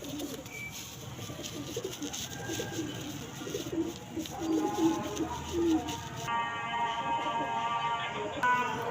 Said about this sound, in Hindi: सियालकोटी कबूतरी है, काम पार वाली।